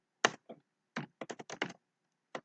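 Computer keyboard typing while entering Flutter code: a few separate clicky keystrokes, then a quick run of close, crisp taps, and one last keystroke after a short pause, with no talking.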